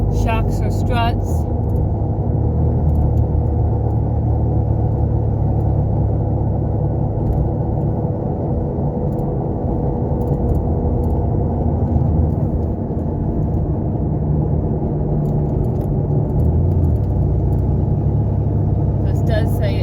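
A car with 148,000 miles and a worn wheel bearing drives along with a steady, loud low rumble and drone from inside the cabin, holding even throughout with faint ticks and clicks on top.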